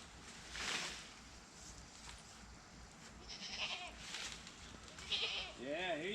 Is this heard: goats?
yes